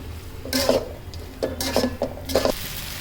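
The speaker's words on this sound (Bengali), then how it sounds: "এবার ভালো করে নেড়ে দেব।" Noodles tossed with packet masala in a pan, a spatula scraping and clinking against the metal in three or four short bursts with quiet gaps between.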